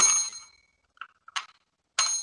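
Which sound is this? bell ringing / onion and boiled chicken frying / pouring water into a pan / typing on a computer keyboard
bell ringing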